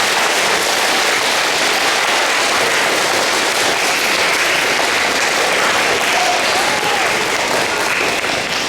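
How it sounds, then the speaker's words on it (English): Fifth-grade graduates at a 2021 ceremony applaud their parents in a loud, continuous, crackling wash of clapping that holds steady from start to finish. "Would you like to give your parents a big round of applause and support?"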